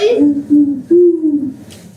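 A voice imitates an owl, giving a few drawn-out, wavering hoots in a row, close and loud, with a breathy onset and a longer final call.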